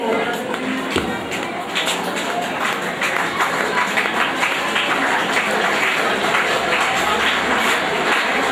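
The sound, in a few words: audience applause at school prize giving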